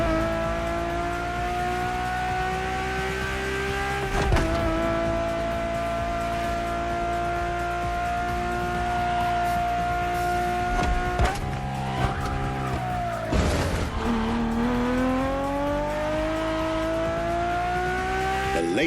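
A Ferrari engine in The Crew Motorfest roars loud and steady, shifting through gears with sharp pitch drops and rising revs, plus a brief tire squeal, with no voices.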